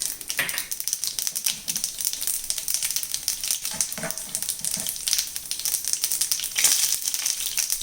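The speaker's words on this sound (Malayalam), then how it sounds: "അതേ എണ്ണയിലേക്ക് നമുക്ക് 1 സ്പൂൺ കടുക് ഇട്ട് കൊടുക്കാം. കടുക് പൊട്ടി വരട്ടെ." Mustard seeds, with fenugreek and peppercorns, spluttering in hot oil in a pan while a fish pickle is made: a dense, steady crackle of sharp pops, close and continuous, with louder bursts, no talking.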